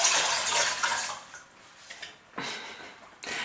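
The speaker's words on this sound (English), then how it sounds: "remove the inner pot that's now clean and add 750 ml of water" Water pours into the inner pot of an Instant Pot in a close, rushing splash that fades, then comes back in shorter bursts.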